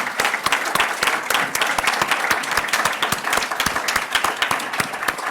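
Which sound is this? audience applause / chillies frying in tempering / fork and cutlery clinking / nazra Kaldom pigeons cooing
audience applause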